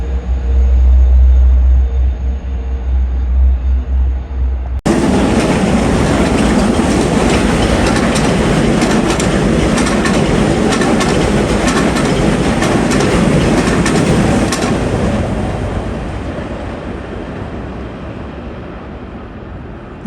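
An LIRR commuter train bound for Penn Station roars past close by in a loud, steady rush of wheel and rail noise that fades slowly at the end, following a low idling rumble, with no talk.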